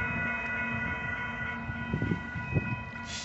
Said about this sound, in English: So as that train goes along to the siding, it's over there.